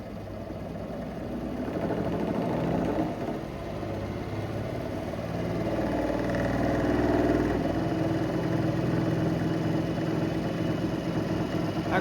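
In an electrical machines lab, a synchronous machine fed about 5 amperes starts turning, a steady mechanical hum and whir that slowly builds in level as it runs up.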